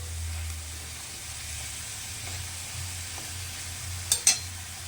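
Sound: frying water lily stems with mustard, poppy seeds and turmeric

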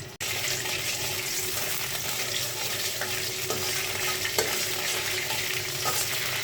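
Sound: whole cumin seeds frying in hot oil

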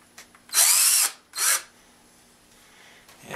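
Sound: power drill driving screws into foam

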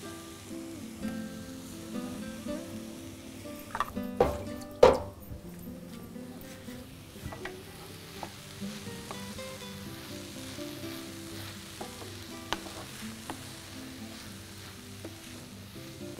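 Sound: stirring rice dish frying in a pan

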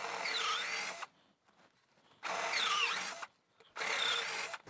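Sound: drilling a hole with a 3/8 inch drill bit

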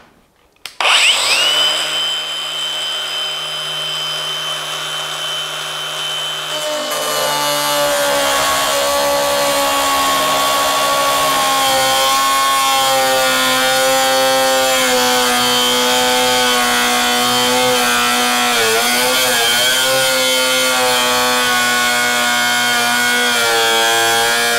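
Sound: AEG cordless angle grinder cutting through threaded rod

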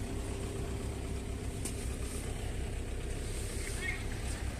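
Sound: car engine idling quietly under the hood

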